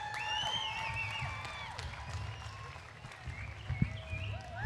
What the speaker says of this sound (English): let's give these kids a nice round of applause